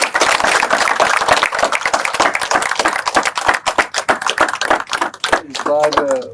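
An audience at a spiritual talk claps loudly, giving a crisp, dense burst of applause that thins into scattered claps before a voice starts speaking near the end.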